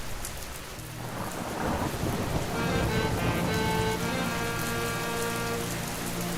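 Heavy rain pours steadily over a market while thunder rumbles low in the background, a dense continuous wash of sound.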